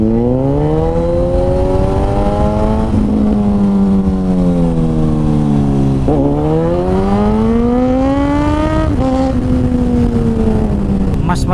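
A Suzuki GSX-S1000 motorcycle held in first gear revs hard, the engine pitch climbing, dropping back at shifts and climbing again in long sweeps, loud and close against wind rush.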